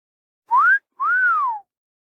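A person whistles softly with feeling. There are two clear, near tones: a short rising note, then a longer one that rises and slowly falls, with a brief gap between them.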